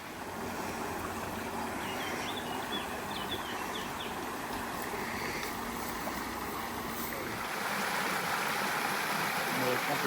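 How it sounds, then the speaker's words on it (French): The Loire river flows in a steady, close rushing wash that runs throughout, with a few faint bird chirps early on. "Écoutez la Loire qui chante avec les oiseaux."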